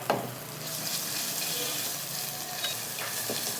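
Ginger garlic paste frying in a pan, a steady close sizzle with light stirring scrapes, no talk.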